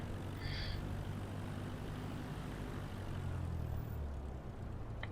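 Steady propeller engine drone of a Cessna in a flight simulator game, a continuous loud broadband hum with no break, alone and without talk.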